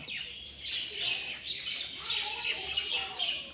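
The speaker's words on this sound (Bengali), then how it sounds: "আপনারা শুনতে পারছেন কিনা, খুব পাখির কলরবে" Many birds chirp and call continuously in the open air around the Shah Gazi Kalu Champabati shrine at Badurgachha, a lively, fairly close chorus of overlapping tweets with no talking.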